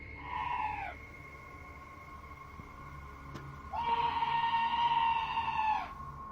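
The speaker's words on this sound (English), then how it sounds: "This scream sounds like chills made audible, happening outside the door of what appears to be a trailer." Two drawn-out, wavering high-pitched screams ring out near a trailer door at night, the first short and the second longer, each rising and holding before cutting off, with no talking.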